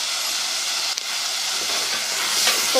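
Spices and mashed tomatoes frying in a pan for a dry potato and dried fenugreek curry, giving a steady hiss and sizzle with a few small pops, close and continuous, no talk.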